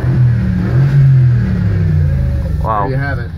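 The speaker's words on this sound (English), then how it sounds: "It's the 4-liter bi-turbo V8." A Mercedes 4-liter bi-turbo V8 growls and revs nearby, a loud, deep engine note that swells and eases over a few seconds before a voice cuts in at the end.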